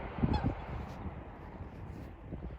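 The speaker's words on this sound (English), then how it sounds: "There's some noisy ass geese over there." Geese honking a few times at a distance, heard from a canoe on a river, over a low rumbling background of wind and ambient noise.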